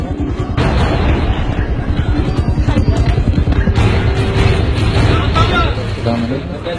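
Dense, continuous bursts of gunfire crackle throughout, loud and close, with rapid overlapping shots and booming reports and no pause, while voices are faintly audible beneath.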